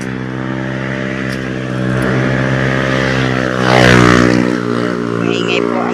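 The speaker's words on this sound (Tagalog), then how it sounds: "Maingay po ang motor." A loud, noisy motor engine drones steadily close by, with a low humming tone that swells briefly in the middle before settling back.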